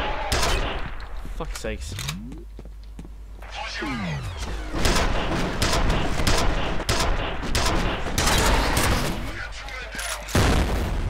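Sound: gunfire from video game F.E.A.R

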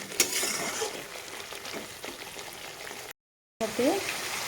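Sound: pointed gourd frying with spices in oil

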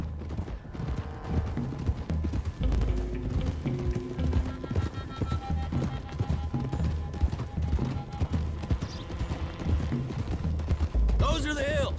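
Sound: horse hooves while riding, from video game Red Dead Redemption 2

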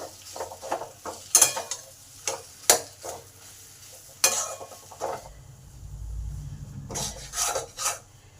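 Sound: stirring spiced potato filling frying in a pan

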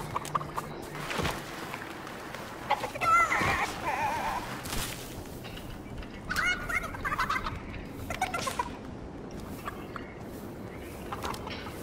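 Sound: chicken clucking in a video game

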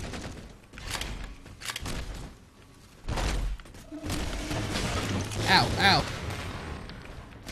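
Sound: gunfire in Halo 4 multiplayer video game

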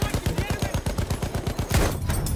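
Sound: gunfire in video game Battlefield 1, Gewehr 98 sniper

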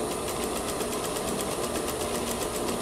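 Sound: sewing machine stitching fabric

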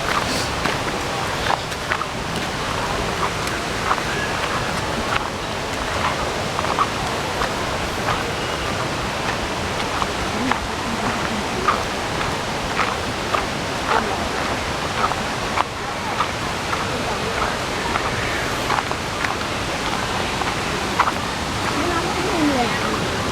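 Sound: Nang Rong waterfall in Nakhon Nayok

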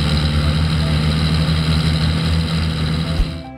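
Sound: snow clearing machine engines

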